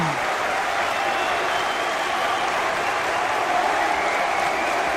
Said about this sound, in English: This amazing crowd of die-hard wrestling fans loving what they're seeing here.